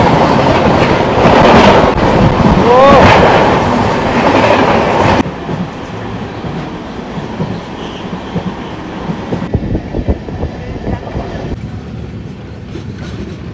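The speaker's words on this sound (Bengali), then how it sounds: "ডিজেল ইঞ্জিনের সাথে যাচ্ছে এটা, WTC-40" A Howrah–Guwahati passenger train hauled by a WTC-40 diesel locomotive rumbles loudly along the track, with rhythmic clickety-clack of the wheels and a brief squeal. The roar drops suddenly partway through, then steady clattering continues.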